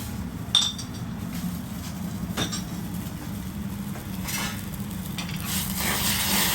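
Lobster cooks in melted butter and alcohol in a London restaurant kitchen, with a continuous sizzle and a few sharp clinks and scrapes of a utensil against the pan.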